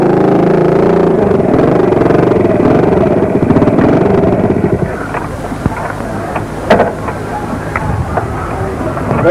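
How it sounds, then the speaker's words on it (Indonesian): A motorcycle engine runs loud and steady with heavy wind buffeting the microphone, easing to a lower rumble partway through, with a few sharp clanks near the end. "Motor nih"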